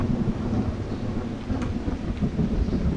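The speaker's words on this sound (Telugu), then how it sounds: "24/7 రెయిన్ ఉంటుంది ఈ గేమ్లో" Steady, heavy rain and rumbling thunder fill the scene in the Choo Choo Charles video game. The downpour is dense and constant, with a low rolling rumble underneath and no voices.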